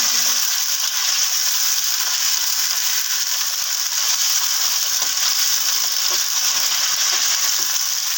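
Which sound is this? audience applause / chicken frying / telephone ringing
chicken frying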